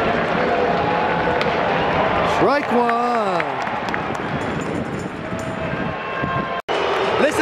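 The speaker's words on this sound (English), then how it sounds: "Listen to the crowd" Baseball stadium crowd during a Yankees game against the Seattle Mariners, a loud continuous roar of fans filling the ballpark, with a brief whistle-like sweep and a voice calling out over it.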